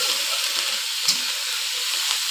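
Onion paste fries in a little oil for prawn malai curry, a loud, even, continuous sizzle heard up close with one brief crackle partway through and no voices.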